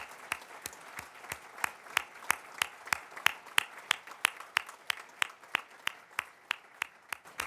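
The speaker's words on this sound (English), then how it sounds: "I would like to give them a special round of applause" Steady, evenly spaced claps ring out for staff and faculty donors at an evening scholarship celebration, sounding like a single clapper or small group close by, alone without voices.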